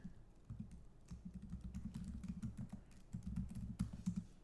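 Keys clatter on a computer keyboard as a search query is entered, a quiet, quick run of soft taps with a brief pause partway through.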